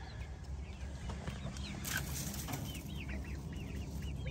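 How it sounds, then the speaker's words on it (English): Roosters, including a cream legbar and a lakeshore egger, make soft repeated chirps and clucks amid a low steady rumble of wind or farm background noise, with no talking. "we have some roosters in here. Got a cream leg bar rooster and a lakeshore egger rooster."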